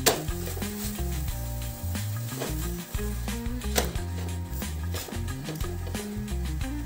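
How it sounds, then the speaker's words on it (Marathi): An aloo paratha roasts on a hot pan, giving a soft continuous sizzle with occasional scrapes and taps from turning it, while background music plays throughout and no one speaks. "पराठा छान मी शेकून घेत आहे"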